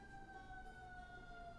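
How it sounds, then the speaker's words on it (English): A fire engine siren passes outside, a faint, steady wailing tone with a clear harmonic that slowly falls in pitch, heard in the background with no talk over it. "That's a fire engine."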